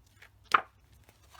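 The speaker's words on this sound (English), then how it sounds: "Can you hear that? It's really thick paper." A single crisp, dry snap of a stiff, thick paper sheet being flexed or tapped, close up, with faint rustles before and after in a quiet room.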